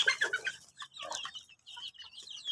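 Chickens on a backyard farm cluck in quick, nearby bursts, several short calls in a row followed by softer scattered clucking and pauses.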